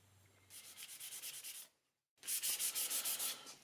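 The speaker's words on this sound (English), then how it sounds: "Alright, I'll get this sanded back" Sandpaper held against a spinning wood-turned bud vase on a lathe, a close rhythmic hissing rub in two bursts separated by a short silent pause, with no talk.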